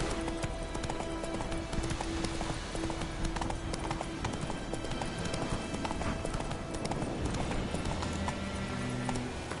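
Roach, Geralt's horse in The Witcher 3, galloping with rapid rhythmic hoofbeats, a continuous clip-clop over ambient game sound, with a low musical tone underneath.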